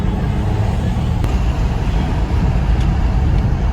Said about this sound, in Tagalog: Traffic, traffic, oh, traffic.